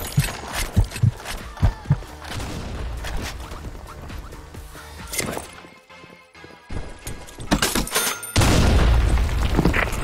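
A grenade goes off in the Blackshot shooter, a heavy boom near the end following scattered sharp gunshots and impacts, with loud combat noise continuing after the blast.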